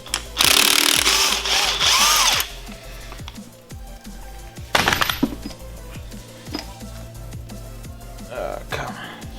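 An impact wrench with a 22mm socket hammers loose the crankshaft bolt on a Subaru, in two loud rattling bursts with a quieter stretch of ratcheting and clinks between them, close by in a garage.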